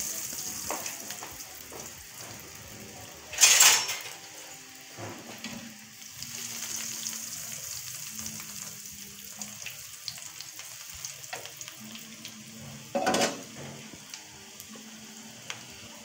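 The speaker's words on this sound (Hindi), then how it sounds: "अब एक पैन में ऑयल गरम करके हम इसको फ्राई कर लेंगे।" Bread rolls coated in cornflour and breadcrumbs fry in hot oil in a pan, a soft continuous sizzle broken by a couple of louder bursts of crackle and utensil contact.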